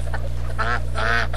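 Wild geese honking near a marsh by a river, a few loud nasal calls in quick bursts over a constant low hum.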